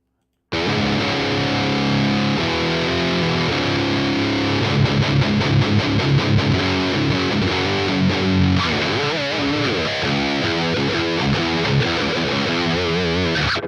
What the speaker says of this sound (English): As far as guitar for this, I think we'll stick with a distortion, like, dominated sound